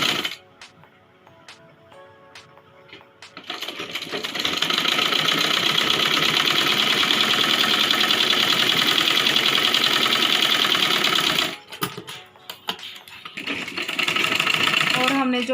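A sewing machine stitches a Rajputi kanchali with a steady, close, loud whir for several seconds. Quiet handling noises come before and after it, and the machine briefly stops and restarts near the end.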